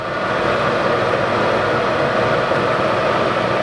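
A Monarch 16x54 lathe with a 5 horsepower main drive motor runs its spindle at 168 RPM, a steady, loud mechanical hum and whir that stays constant with no breaks.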